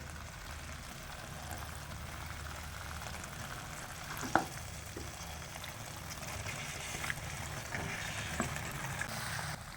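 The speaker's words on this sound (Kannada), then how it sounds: "ಆವಾಗಲೇ ಬೇಯಿಸಿಟ್ಕೊಂಡಿದ್ರಲ್ಲ ನಾವು ಪಾಸ್ತಾನ, ಅದನ್ನು ಇದರೊಳಗಡೆ ಹಾಕ್ಕೊಂಡು ಎಲ್ಲ ಮಿಕ್ಸ್ ಮಾಡ್ಕೋಬೇಕು" Boiled pasta being stirred into tomato sauce in a pan, with a soft steady sizzle and faint scraping of the spoon, plus one sharp clink partway through.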